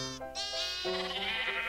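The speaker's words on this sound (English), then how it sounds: "The sheep are chasing the wolves?" Sheep in the Minecraft video game bleat in several quick, close, wavering calls, one after another, loud and alone without speech.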